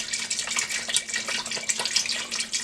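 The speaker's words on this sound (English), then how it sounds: "So just pour your water in there." Filtered water poured from a container into a power pressure cooker, an uneven bubbling, splashing trickle heard close and fairly quiet, no talking.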